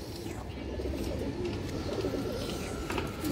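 Pigeons coo in a continuous low, throaty burble from a group kept together, with faint chirps above and no speech.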